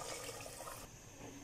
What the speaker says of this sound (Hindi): अब हम इसमें डालेंगे 4 गिलास मज़ीद पानी।